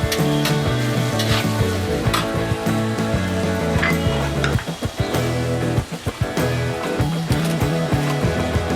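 Onions frying in oil in a pan as the base for a South Indian chicken curry, a steady close sizzle with occasional stirring scrapes and clatter throughout, no talking.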